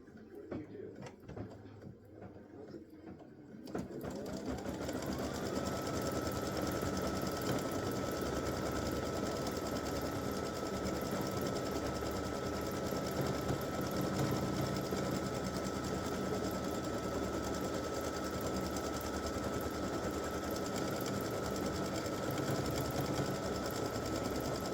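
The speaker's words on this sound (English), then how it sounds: "And now we're going to do the satin stitching." An embroidery sewing machine runs satin stitching on an appliqué Christmas gnome design, a steady fast whirring hum that starts after a quiet few seconds and continues evenly and close without a break.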